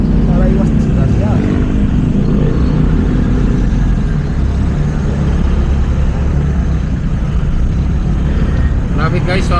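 Loud, steady road traffic rumbles continuously from a vehicle interior or roadside, a dense low engine and tyre drone filling the whole scene without a break.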